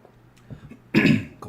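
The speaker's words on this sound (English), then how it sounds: "I can't clear my throat." A man coughs and clears his throat: a few soft throaty sounds, then one loud, harsh cough burst close to the microphone, followed by a faint trailing rasp.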